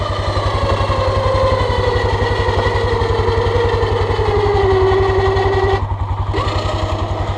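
A Yamaha Kodiak 450 ATV stuck in mud idles with a steady, loud engine throb while the winch motor whines, its pitch slowly sagging under load, then cuts out near the end.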